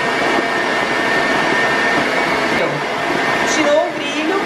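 A stand mixer runs at high speed, whipping chantilly cream in a steady, loud, close whir that holds throughout, while someone speaks Portuguese over it.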